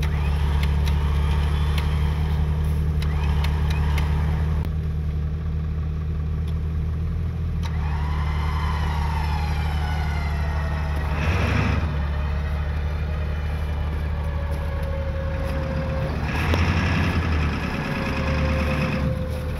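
A Jeep strains to tow a stuck truck while the truck's back wheels spin, engines droning loudly and continuously with rising whine as tires slip, voices talking over the rumble.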